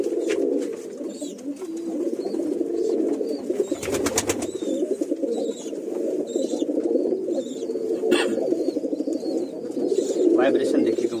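Imported Teddy Pakistani Shiyalkoti pigeons, a pair, coo in steady low throbbing calls that run throughout at close range, with occasional sharper sounds over them.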